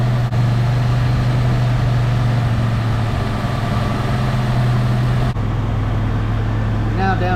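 A 1976 Chevy LUV pickup engine idles steadily up close, a loud, continuous low rumble with an even hum that holds throughout, a brief change near the end.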